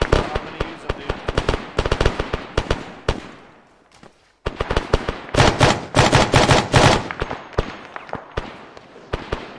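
Rapid gunfire rattles in a military shooter game, loud close bursts of automatic fire with a brief lull before a dense volley resumes.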